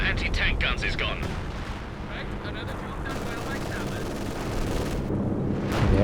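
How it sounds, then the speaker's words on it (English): Stuka dive-bomber barrage explosions in the video game Company of Heroes 2 rumble as a dense, continuous roar of blasts and battle noise. A commentator talks over them. "Another Stuka barrage coming through."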